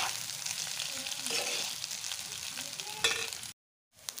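Rice and eggs sizzle while they are stir-fried together in a pan for egg fried rice, with close hissing and bursts of scraping and tossing, then a sudden brief silence before the sizzle returns.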